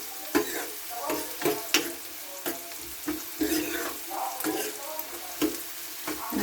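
Chopped onions frying in a pan for a spiced yogurt dish, with a steady sizzle broken by repeated scraping stirs of the spoon, fairly close and lively, with no one talking.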